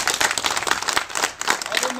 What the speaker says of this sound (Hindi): जोर से ताली का स्वागत होना चाहिए